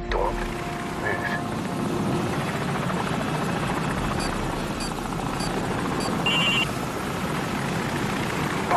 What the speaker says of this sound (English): Enemy helicopter! Get down! Stay in the shadows. He's circling back around.